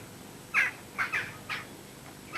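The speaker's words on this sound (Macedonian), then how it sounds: "тој што гракаат чавки и гаврани нешто има" Jackdaws and ravens give a run of harsh caws, about five short calls in uneven spacing, moderately distant over a quiet outdoor background with no talking.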